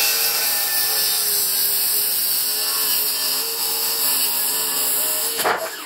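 A circular saw rips steadily through wood for a table build, a loud, continuous high whine under load that holds for several seconds before a brief rattling finish as the cut ends, heard alone without talk.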